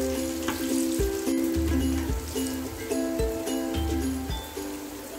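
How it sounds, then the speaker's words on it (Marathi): Cheese corn balls deep-frying in hot oil, a steady bubbling sizzle running throughout with a low rumbling hum beneath and occasional brief dips, close and fairly loud, no voices. "आपले हे तळून घेत आहे आपण"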